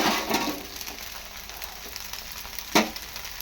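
A snack fries in a hot pan after being flipped to crisp the second side, giving a steady close sizzle and crackle with a few sharper pops and one louder clatter near the end.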